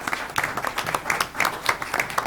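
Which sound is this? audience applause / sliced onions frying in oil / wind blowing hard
audience applause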